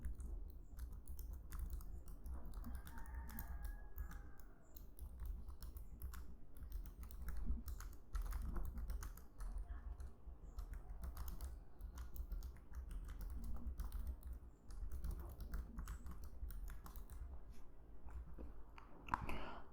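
Someone types text on a computer keyboard: soft, irregular keystrokes tap away quietly and continuously with no one speaking.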